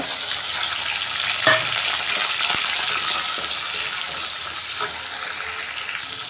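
Shallots, garlic, curry leaves, fennel, mustard seeds and vadagam sauté in hot oil in a kadai, giving a dense, steady, close sizzle. A few faint utensil taps sound over it and nobody speaks.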